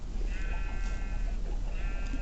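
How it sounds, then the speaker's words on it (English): A pet sheep in Minecraft bleats twice, a nasal, wavering game-sound bleat heard clearly over a low, steady background hum. "he's my pet sheep."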